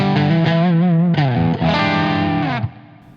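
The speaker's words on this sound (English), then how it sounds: "blend between a clean signal and the distorted signal" Electric guitar played through an effects pedal with clean and distorted signals blended halfway, sustained sliding and bending notes with a thick, slightly driven tone that rings loud and alone before cutting off.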